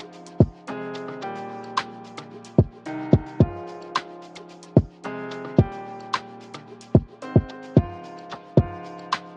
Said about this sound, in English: let's combine the drum pattern with just the keyboard first.